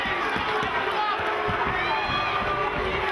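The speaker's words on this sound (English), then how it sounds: "The crowd chanting, clapping, riveted on the action." Crowd at a Bodog Fight bout chanting and clapping, a dense continuous roar of many voices with rhythmic claps pulsing through it, heard from within the arena.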